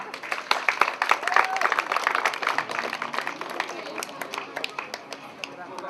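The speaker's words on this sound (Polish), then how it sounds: "Wielkie, wielkie brawa." A crowd at an orienteering race award ceremony applauds the winners, scattered uneven clapping with individual sharp claps, moderately close, while voices talk over it.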